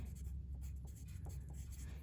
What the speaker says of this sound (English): I'm going to write my name in pencil here.